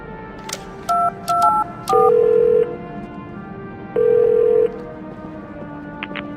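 A telephone number is dialed in the video game The Darkness: a series of distinct touch-tone beeps, some short and some held, clear and close.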